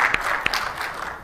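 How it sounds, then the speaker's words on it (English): An audience applauds briefly after a business talk on enterprise solutions, a short burst of clapping with a few sharp individual claps standing out, heard without speech. "They were clapping for you, Mr. Brandenburg."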